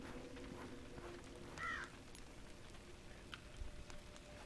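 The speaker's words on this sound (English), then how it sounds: "Hello, bird." A crow-like bird caws once in the VR game Asgard's Wrath, a short, moderately near call over a faint ambient hiss with a few soft ticks.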